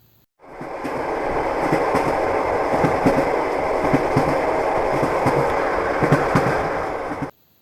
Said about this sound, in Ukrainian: Це потяг.